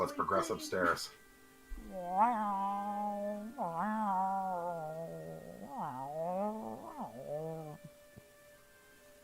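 A cat sound effect played during a tabletop role-playing session: a series of drawn-out, wavering meows rising and falling over several seconds, following brief speech.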